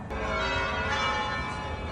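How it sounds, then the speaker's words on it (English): Evening 6 o'clock church bells chime across a small town, a sustained, ringing wash of overlapping bell tones, fairly loud and resonant, carrying from a nearby church. "And there they are, the evening bells, the 6 o'clock bells, chiming."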